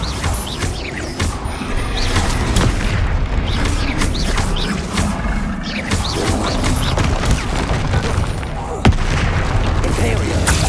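Rapid bursts of magical explosions and crashing impacts from Bombarda spells in Hogwarts Legacy gameplay, dense and loud, with voices shouting spell names over the combat.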